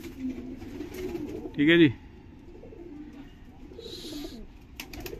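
A Madrasi pigeon gives a short, throaty coo over someone talking quietly nearby, with a faint higher chirp moments later.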